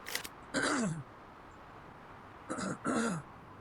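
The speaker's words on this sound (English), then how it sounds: "if I could clear my throat" Two bouts of throat clearing, the second a quick double rasp, close and fairly quiet against faint background noise.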